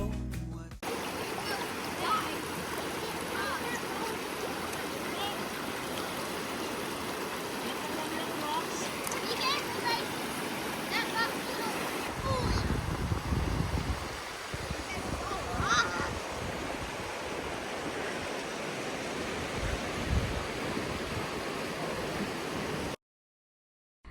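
River water rushes over rocks in a steady, broad hiss and churn that stays close and loud throughout, with heavier low splashing midway and occasional faint bird calls.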